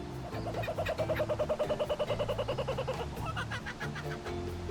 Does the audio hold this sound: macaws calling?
yes